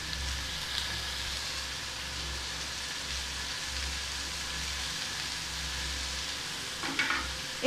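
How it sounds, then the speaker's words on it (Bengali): Sliced onions, salted to soften, sizzle steadily in a pan of oil while bitter gourd kofta is cooked, a continuous close frying crackle with a few clinks near the end. "একটু ওয়েট করতে হবে পেঁয়াজটা সামান্য ভাজা পর্যন্ত।"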